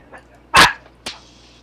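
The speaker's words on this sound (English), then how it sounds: "Well, they're barking because of the neighbor kid." Two sharp, high yappy barks from small dogs like a chihuahua, a short burst and then a second, thinner yap after a brief pause, loud against a quiet room with a faint sound just before.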